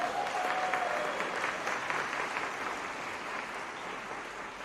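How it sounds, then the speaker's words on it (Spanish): A church congregation applauds steadily and loudly throughout, a dense wash of many hands clapping at once that tapers slightly toward the end. "Demos un aplauso a Jesús."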